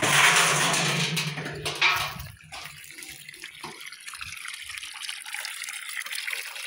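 Strong gushing water pours from a solar-powered water pump, a loud splashing rush at first that eases after about two seconds into a steadier, quieter flow and trickle, with no talk over it.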